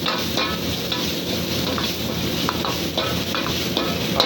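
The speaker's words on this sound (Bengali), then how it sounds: "পেঁয়াজ কিমা দেওয়ার পরে এটা হালকা করে সুন্দর করে নাড়াতে থাকবো।" Minced onion is stirred in a pan over low heat, giving a steady soft sizzle with occasional light scrapes of the spoon.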